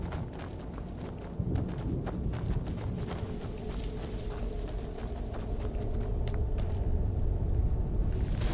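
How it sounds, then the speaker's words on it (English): Irregular horse hooves clip-clop in the video game Skyrim over a low rumbling background, the sound growing a bit louder and closer toward the end. "Wonder if the horse will reappear."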